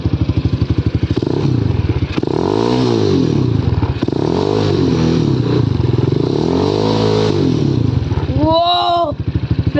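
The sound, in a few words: ATV engine running and driving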